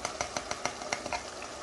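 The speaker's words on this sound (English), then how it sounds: "We're now going to stir this." A utensil stirs lamb karahi with coriander powder, garam masala and black pepper in a pan, a quick, even run of close scraping strokes over a faint sizzle, with no voices.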